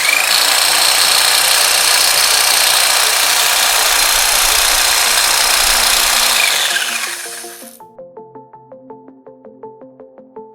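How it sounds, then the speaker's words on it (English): An electric hedge trimmer cuts through a hedge with a loud, steady buzzing drone that runs for about seven seconds, then cuts off as music takes over. "When using an electric hedge trimmer, the easiest way to get the shape and height you want is to start at the base"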